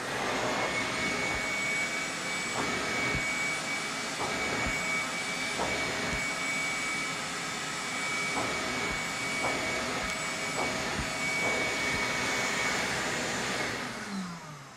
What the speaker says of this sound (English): you want to take your Shop-Vac. The Shop-Vac's going to get out all that moisture and all the soap out of the carpet